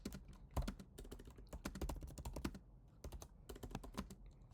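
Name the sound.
typing on a computer keyboard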